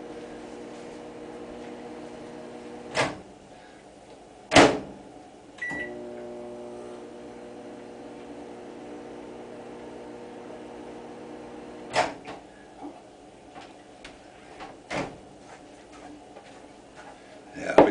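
A microwave oven hums steadily for about ten seconds while melting butter, its drone carrying a few tonal bands, broken by the clunks of the door and a handful of beeps.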